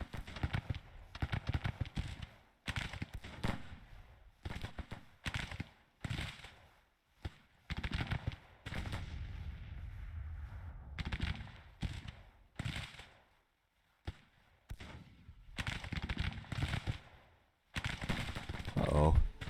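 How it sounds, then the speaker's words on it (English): Artillery fires across a Grand Tactician battlefield, repeated sharp booming reports arriving in irregular clusters with pauses between volleys, distant and fairly faint. "This artillery is about to go."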